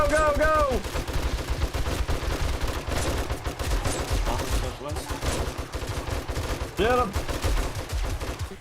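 Rapid gunfire from players shooting waves of zombies in the survival game 7 Days to Die, dense overlapping bursts throughout with a brief shouted voice over the shooting.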